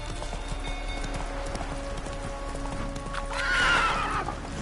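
Roach the horse gallops in The Witcher 3 with steady, close clip-clop hoofbeats throughout, and a loud whinny rises near the end.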